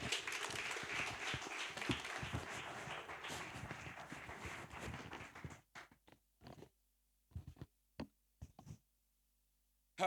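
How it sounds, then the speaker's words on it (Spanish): A church congregation applauds in a dense wash of clapping for several seconds, then it thins to a few scattered claps before falling quiet. "Denle un aplauso al Señor."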